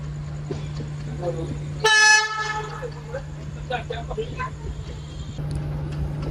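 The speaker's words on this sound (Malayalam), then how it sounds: "നമ്മുടെ കൂടെ പാരലായിട്ടൊരു ആൽക്കോ വരുന്നുണ്ട് കേട്ടോ." An Alco shunting diesel locomotive runs alongside a moving train, and a sharp harmonic horn blast rings out briefly over a steady low engine drone while rail noise carries on throughout.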